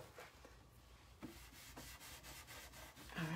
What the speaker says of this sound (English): I'm gonna go ahead and burnish this really quickly